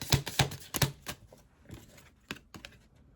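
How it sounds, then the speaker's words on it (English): Tarot cards being shuffled by hand, giving a quick run of sharp riffling snaps and flutters close up, then several softer slaps and taps with short pauses between them. "are we shuffling one more?"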